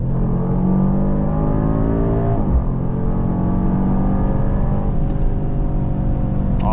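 A 2026 Mercedes GLE 63 S AMG accelerating at full throttle on a wet, busy German Autobahn, its engine droning and rising steadily through the gears from inside the cabin, with one brief dip at a shift.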